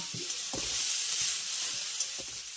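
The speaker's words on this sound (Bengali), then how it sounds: "গ্যাসের ফ্লেমটাকে কিন্তু অবশ্যই এই সময়তেও হাইতে রেখেই এই টমেটোটাকে এই পেঁয়াজের সঙ্গে মিশিয়ে নিতে হবে।" Chopped tomato sizzles with onion in a pan over a high gas flame, a steady broadband hiss broken by a few soft stirring scrapes and knocks, close and alone with no talk.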